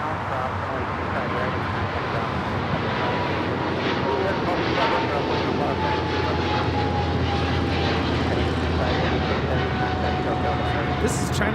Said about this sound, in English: This is China Eastern Airlines 586 taking off to Shanghai on the 777-300ER.